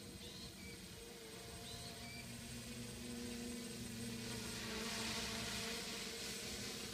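A Reptile X 500 quadcopter drone flying overhead outdoors, a continuous droning propeller whine with a steady low hum that swells slightly as it moves, faint and somewhat distant.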